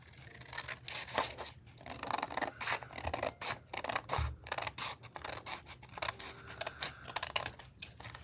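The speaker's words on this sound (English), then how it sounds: "So I'm just going to go ahead and cut it." Scissors snip and trim paper for a flip-style junk journal page, a quick series of close, crisp cuts with light rustling of the paper in between, no one talking.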